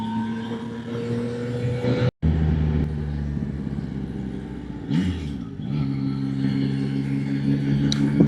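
Motorcycle on a road ride, engine note steady then briefly cut and rising again as the rider rolls on the throttle through a bend, with wind rush over the close engine sound.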